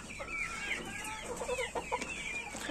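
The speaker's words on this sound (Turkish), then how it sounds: "Bu bizim Baba Yiğit horoz" A rooster on a poultry farm gives a series of close, fairly faint clucks and short throaty calls in an irregular rhythm, with light background noise and no talking.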